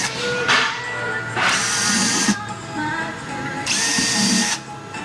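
A power drill with a 16-inch bit whirs in three sustained bursts as the bit bores into material, loud and close, with short pauses between runs.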